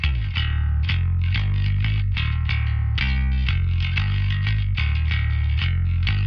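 Bass guitar played through a Crate bass amp and picked up by a microphone in front of it, with a steady run of plucked, gritty distorted notes that stays loud and continuous throughout.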